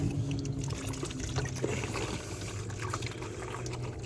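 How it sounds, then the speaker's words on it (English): Liquid pouring steadily as screen wash is mixed with drain cleaner for a Mercedes S430 washer flush, a continuous close splashing trickle with a low gurgle throughout and no speech. "So what I'm doing is mixing it with the drain cleaner so it dilute it down."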